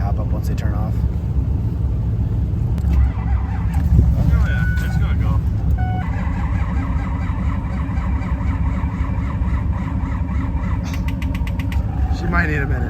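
A 6.0 engine starts and settles into a rumbling idle as it warms up, heard outdoors beside a hitched trailer, with wind buffeting the microphone and people talking over it.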